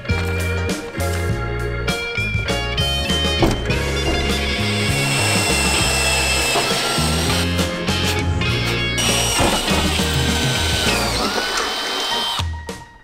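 A power drill whines loudly and steadily, biting into the metal of a Ford F-150 truck bed with brief pauses and grinding changes in pitch, close up.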